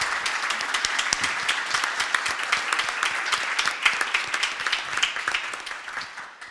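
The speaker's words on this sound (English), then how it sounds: "big applause for our panelists" A large conference audience applauds its panelists, a thick, continuous patter of many hands clapping at steady loudness. It tapers off in the final second.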